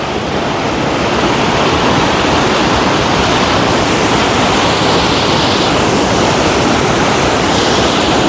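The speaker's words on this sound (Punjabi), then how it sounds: "ਇਸ ਜਗ੍ਹਾ ਤੇ ਕਾਫੀ ਵੱਡੀ ਛੱਲ ਪੈਂਦੀ ਹੈ ਦੇਖ ਸਕਦੇ ਹੋ" Loud, continuous roar of rushing water in the Bhakra canal at a breach, broad and unbroken like churning waves, with no voices.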